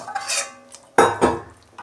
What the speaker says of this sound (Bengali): এই যে আমি ঢাকা দিচ্ছি।